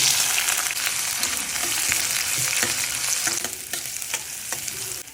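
Onions, dried red chillies and turmeric sizzle in hot oil as a tempering, a steady close frying hiss with occasional stirring clinks and scrapes, no voices.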